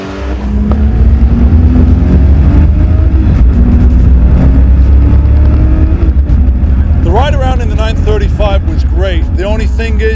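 Porsche sports car engine revving loudly and steadily on a track, a sustained roar with rising tones near the end, with voices talking over it.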